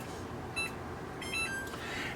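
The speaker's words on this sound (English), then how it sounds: "Now we're gonna go ahead and set our timer" A kitchen oven timer gives short, thin electronic beeps as it is set while chocolate chip cruffins bake. The beeps are spaced and fairly faint over a steady background hum.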